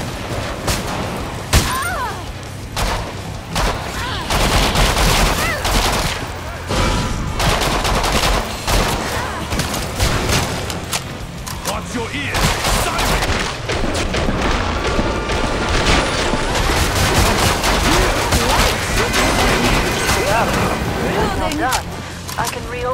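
Dense, continuous gunfire from weapons in Killing Floor 2, rapid automatic bursts and heavy booming shots packed together at close range for the whole stretch, with a voice talking over parts of it.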